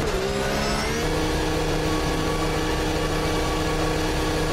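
Race car engine in the Automobilista 2 sim, revving steadily as the car spins donuts, a continuous loud mid-pitched drone with a rising harmonic sweep at the start, no talking.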